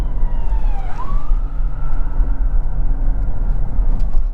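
A police car siren wails past with a loud, sweeping tone that dips and rises early on, then holds a steadier pitch over a constant low traffic rumble.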